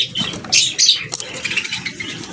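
Pet parakeets chirp in bright bursts and flutter their wings close by, with short fluttering bursts early on and softer chirps and rustles continuing over a low background.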